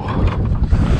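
Cold wind blowing outdoors on Lake Murray while fishing for white perch, a steady low rushing buffet with gusty rumble against the microphone, no talk.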